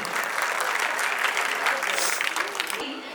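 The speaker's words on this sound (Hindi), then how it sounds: "एक बार हमारे चीफ गेस्ट और रिपोर्टर्स के लिए एक बार जोरदार तालियां बजा दीजिए" An audience at a grand cultural programme at a training centre claps loudly for the chief guest: dense, sustained applause from many hands that fades slightly at the end.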